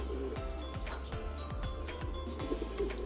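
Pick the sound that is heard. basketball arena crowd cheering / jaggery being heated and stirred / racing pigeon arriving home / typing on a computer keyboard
racing pigeon arriving home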